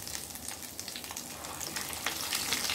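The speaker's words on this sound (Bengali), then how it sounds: "আমি এখন একে একে চিকেনগুলো দিয়ে দেব।" Chicken pieces going into hot oil set off a loud, steady crackling sizzle that grows slightly denser toward the end, heard close up with no talking.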